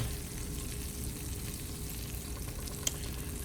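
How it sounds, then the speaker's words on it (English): Butter melting in a pan over medium-high heat for a roux, giving a steady, close frying sizzle that holds even throughout with one brief sharp tick near the end. "Right here, you just see my butter getting melted down."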